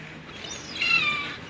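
Cats squabbling over scraps of meat tossed out alongside gulls, a short rising yowl and meow that swells loudly near the end, close by with no talk.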